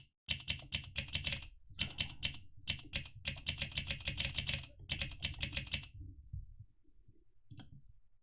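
Typing on a computer keyboard: a close, steady stream of rapid key clicks in several bursts with short pauses, then stopping near the end.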